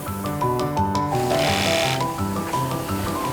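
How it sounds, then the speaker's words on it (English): Sewing machines whir and rattle in a factory making ballet shoes, overlapping mechanical hums with steady tonal buzzing and a brief burst of noisier stitching in the middle, heard close and continuous. "There are lots of sewing machines in this factory"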